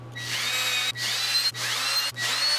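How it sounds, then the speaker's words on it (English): Power drill boring mounting holes through wood for a shop air filter mount, three loud sustained bursts each about half a second long, separated by brief pauses, close and alone with no talk. "I drill the mounting holes through"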